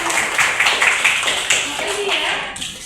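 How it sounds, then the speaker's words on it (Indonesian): Pesantren classroom students clap together in a short, loud burst of uneven handclaps with a few distinct sharp hits, fading out near the end while voices chatter underneath. "Tepuk tangan dulu."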